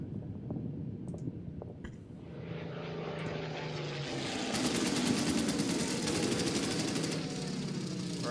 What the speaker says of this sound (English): I am going to try to attack this enemy fighter plane.